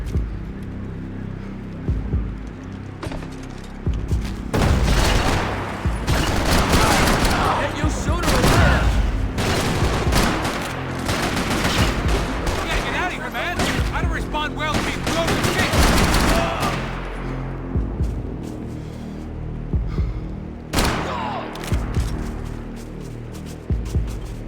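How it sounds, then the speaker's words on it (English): Heavy gunfire in the Max Payne 3 video game, with dense overlapping bursts and booming shots over about twenty seconds, loud and close, broken by short lulls and mixed with game voices. "Shoot him, and then shoot him again."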